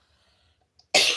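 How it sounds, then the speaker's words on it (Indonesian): A single sharp cough bursts out loudly near the end after near silence, close to the listener. "Bunda masih batuk ya teman-teman."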